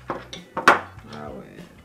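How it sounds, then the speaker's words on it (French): A utensil clinks and scrapes in a bowl while sauce is stirred, giving a few sharp knocks followed by softer scraping. Voices murmur faintly underneath. "Faut bien touiller."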